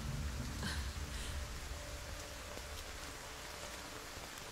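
Sudden rain falls as a soft, even patter and hiss of drops on surfaces, faint and continuous throughout, with no voices.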